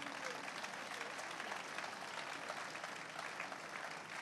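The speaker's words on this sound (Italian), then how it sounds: "Ecco, ora il centro, l'applauso meritatissimo." Audience applause at the 2013 Una Musica Può Fare charity event in Savignano sul Rubicone, a steady, dense wash of many hands clapping that holds at an even level throughout.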